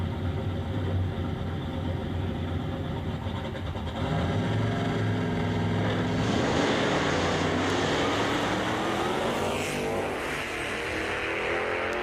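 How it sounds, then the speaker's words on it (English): A Dodge Hellcat drag car roars down the strip at Greer Dragway during a street-car drag racing event, a loud, sustained engine howl rising in pitch with crowd and track ambience behind it. "David Lips in the Hellcat making all the noise"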